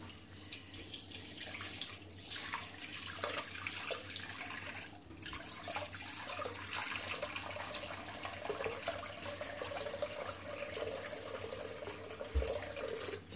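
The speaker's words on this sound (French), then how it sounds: "Et on rajoute de l'eau froide par-dessus." Cold water streams steadily from a kitchen tap over rice being rinsed for a sweet zarda rice dish, a continuous close splashing that stays fairly quiet and runs alone without talk.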